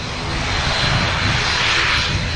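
Steady, fairly loud jet engine roar from a Boeing 787 Dreamliner arriving from Mumbai as it lines up on the runway at Manchester Airport, a continuous broadband whine and rumble with no voices.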